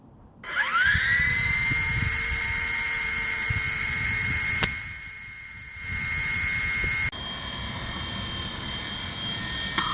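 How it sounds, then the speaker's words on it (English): WLToys V911 four-channel micro RC helicopter spins up and flies, a loud, close, high-pitched motor whine rising at start and holding steady with slight shifts in pitch. "this is a great flying helicopter"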